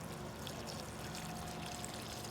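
Water poured from a can onto a freshly planted caladium bulb covered with mulch, a steady close splashing pour that runs without break.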